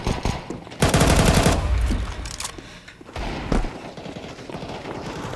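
Galil assault rifle firing in Counter-Strike 2 during a deathmatch: a loud burst of rapid automatic shots followed by scattered further shots and game action.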